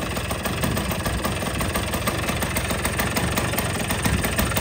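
A motorcycle engine idling with a leaking exhaust, a loud, close, steady rumble with rapid uneven pulsing and a high whine, and no talking.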